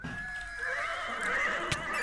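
A horse in a modded Minecraft video game gives a long, strained whinny lasting about two seconds, clear and fairly close with a faint thump near the end.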